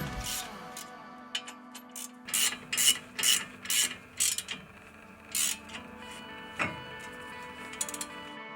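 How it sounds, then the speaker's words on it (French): A ratchet wrench with an 18 mm socket tightens the brake caliper bolts on a Ford Mondeo, giving a run of rhythmic clicking bursts at close range followed by a few slower, fainter clicks. "Bloquez les deux vis de la chape à l'aide de la douille de 18 et du cliquet."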